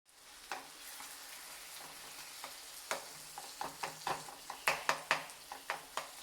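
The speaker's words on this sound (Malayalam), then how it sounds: "അതൊന്ന് ചെറുതായിട്ടൊന്ന് ഉടച്ചു കൊടുക്കാം." Canned tuna being mashed in a pan with a spoon, a string of sharp taps and scrapes against the metal that grow busier, over a faint steady sizzle.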